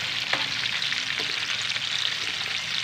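Cabbage with potato and ground meat being stirred in a hot pan, with a steady close sizzle broken by a few scraping strokes of the spoon, and no talking.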